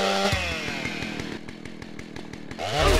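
Chainsaw in GTA San Andreas revving loudly, a buzzing motor that surges at the start, holds a steady rattling drone, then roars up again near the end.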